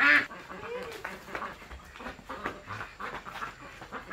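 A flock of ducks quacking in the bushes on a hillside farm, with repeated close and scattered quacks in an uneven rhythm, a loud call at the start, and some voices mixed in.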